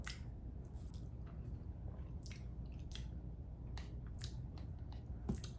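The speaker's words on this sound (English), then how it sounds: "I swear I'm chewing my noodles" Soft, wet squishing of noodles being chewed close to the mic, irregular moist smacks and small clicks over a low steady background, with no talking.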